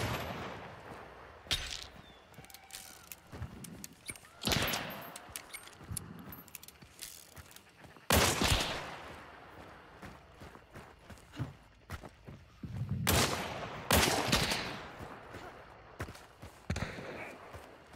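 Scattered gunshots ring out in a swampy shooter game, sharp isolated cracks separated by quieter stretches of ambient noise, with a few heavier bursts standing out among the rustling background.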